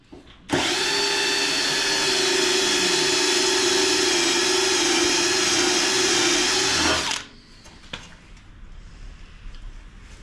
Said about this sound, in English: just getting this drill bit going